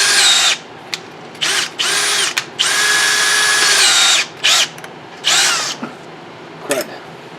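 A power drill bores out the plugs on a Yamaha 1200 PV carburetor in repeated short high-pitched whirring bursts, each spinning up and stopping, close and loud with brief quiet gaps between.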